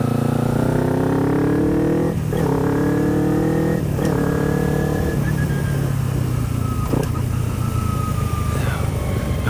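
A motorcycle engine revs hard while accelerating, climbing in pitch through several gears with brief dips at each shift, loud and close throughout, with a little talk underneath.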